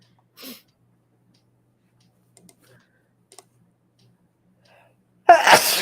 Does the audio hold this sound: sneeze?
yes